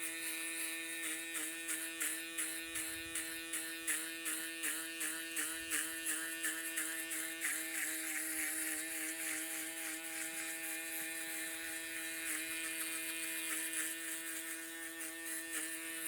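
Electric hair trimmers buzz steadily at close range while cutting a fade, the motor whine pulsing in quick regular swipes as the blades pass through hair, with no talking.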